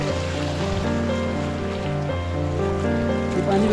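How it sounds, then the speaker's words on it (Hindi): A roadside stream along a mountain path flows in a steady, dense rush of water that fills the whole clip, fairly loud and unbroken, with no talking. "पूरे रास्ते में नाला ही नाला है और पानी बहुत ज्यादा ठंडा है"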